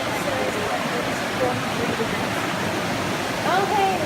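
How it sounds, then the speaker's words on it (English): Underground river pouring out from under a rock ledge inside a cave, a steady broadband rush of water that stays constant and fairly close throughout, with faint voices underneath. "So the water you hear is not this river. It's another river that's coming out right here."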